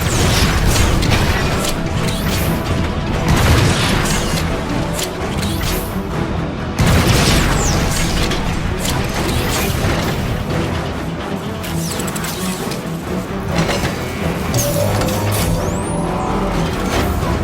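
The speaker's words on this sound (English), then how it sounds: "The neutron gun is activating." Neutron gun powering up in the game Transformers: Fall of Cybertron: a loud, continuous wash of heavy mechanical rumbling with booms, crashes and clanks, and a rising whine near the end.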